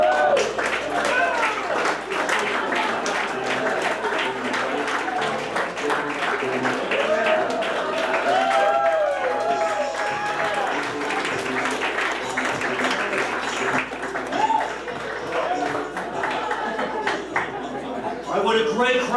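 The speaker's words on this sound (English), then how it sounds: "that was such a nice applause, folks" Audience applause at a comedy club, a steady wash of clapping that carries for the full stretch while someone speaks over it on a microphone.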